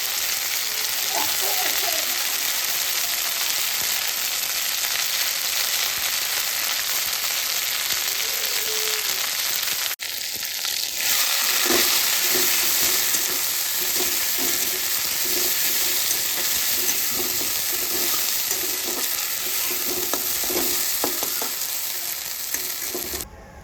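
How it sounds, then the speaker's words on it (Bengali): Khar kol leaf paste fries in a wok, a steady bright sizzle running throughout with occasional scraping as it is stirred, with a brief tonal beep midway and no talking. "এবার সেই পেস্টটি পুরোটা এবার কড়াইয়ে ঢেলে দিয়েছি। এবার ভালো করে নেড়ে ছেড়ে তারপরে কিন্তু এটাকে আমি নামাবো"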